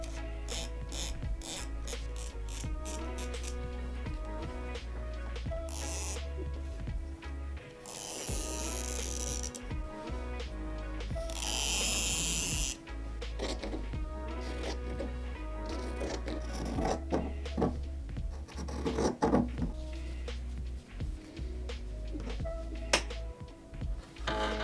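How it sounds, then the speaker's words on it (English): Scissors cutting a square from a cotton bed sheet, a steady run of crisp snipping and rasping blade strokes, close and fairly quiet, with no talk. "We're going to take our bed sheet and cut out a ruler length square."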